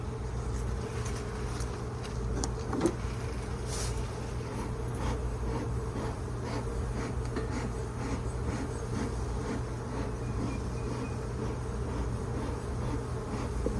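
Honey bees in an open hive at full capacity, a dense steady buzzing hum that stays close and even throughout, with a single faint click partway through.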